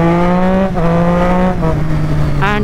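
A Triumph Street Triple 675 motorcycle engine revs hard under throttle, a loud, close, rising mechanical howl with brief dips where the pitch drops between pulls, with no talking.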